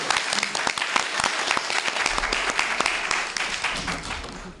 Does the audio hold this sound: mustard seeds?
no